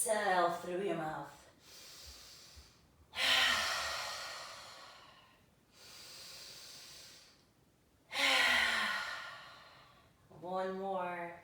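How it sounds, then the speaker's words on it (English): Slow, deliberate breaths during a yoga flow, drawn in through the nose and released through the mouth: two long, loud airy exhales separated by quieter inhales, with brief spoken guidance at the start and end. "inhaling through your nose and then exhale through your mouth"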